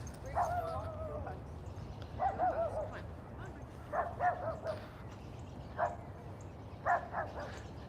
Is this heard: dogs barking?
yes